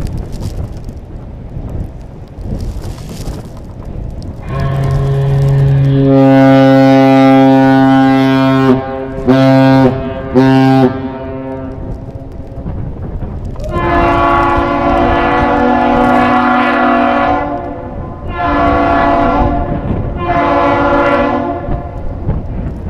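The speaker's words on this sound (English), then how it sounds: "Sometimes those horns have a hard time honking." Deep, loud ship horn of the freighter Indiana Harbor arriving at Duluth–Superior to load coal, sounding several long blasts, some stuttering and broken, with short gaps between them.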